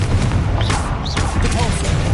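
Confringo blasting spell cast in the Hogwarts Legacy video game, a rapid series of loud booming, crackling blasts over a heavy low rumble, with a voice briefly audible in the mix.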